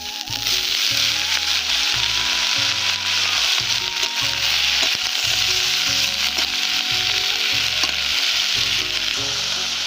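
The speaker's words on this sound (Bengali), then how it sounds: "লাল লাল করে ভেজে নেব।" Mixed vegetables with onion and green chilli frying in a pan for a village-style five-vegetable dish, giving a steady, loud, close sizzle that runs unbroken throughout with no talking.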